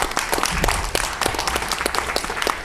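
An audience at a New Haven school reform panel breaks into a short burst of dense clapping, loud and close, with a faint voice beneath.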